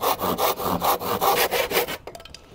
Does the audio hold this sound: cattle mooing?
no